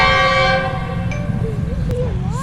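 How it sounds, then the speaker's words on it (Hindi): The Sir Syed Express blows a loud, sustained multi-tone horn as it passes Gujar Khan railway station, then rail rumble continues while faint voices chatter nearby on the platform. "सर सैयद एक्सप्रेस यहाँ से पास ऑन होगी"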